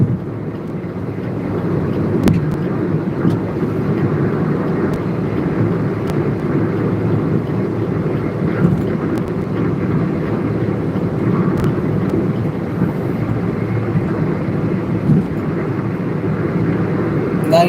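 A car cruising at about 120 km/h while overtaking on the Samruddhi Mahamarga expressway, with a steady, loud roar of road and wind noise and no break throughout.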